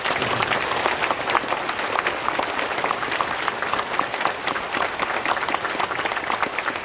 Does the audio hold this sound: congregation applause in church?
yes